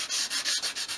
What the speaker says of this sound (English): I sand along sort of the front and back of each piece